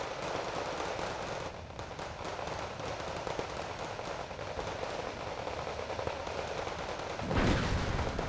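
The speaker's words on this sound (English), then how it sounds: "There we go, mortars being fired." Mortars fire within a dense Wargame Red Dragon battle, a steady wash of gunfire and explosions running throughout, with a louder, heavier burst near the end.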